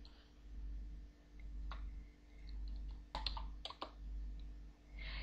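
Sparse, faint keystroke clicks from a computer keyboard as commands are typed into the Aardwolf MUD text game, with a couple of quick clustered taps over a low steady hum.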